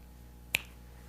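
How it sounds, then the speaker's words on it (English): A single crisp finger snap rings out once, close and sharp against a quiet room hum. "it's a finger snap"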